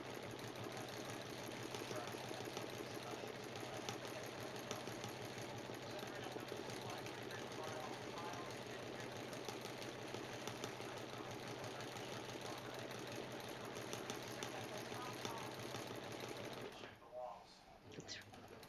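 A sewing machine doing free-motion stitching of scribbles and zigzags runs steadily and close, with a continuous fast mechanical whir and rattle throughout, stopping near the end.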